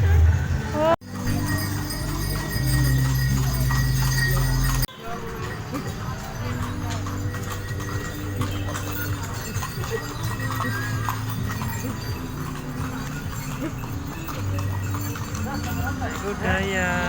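Horse pulling a delman carriage around a town square in Blora, Central Java, its hooves clip-clopping steadily and close over street noise while people talk nearby.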